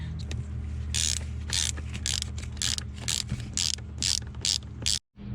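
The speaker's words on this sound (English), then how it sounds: "we are going to remove this bolt and that bolt to remove the actual lid itself" A ratchet loosening T30 bolts on the oil cooler lid of a BMW E92, with quick rapid clicking bursts in a steady rhythm, close up over a low hum, then a brief stop.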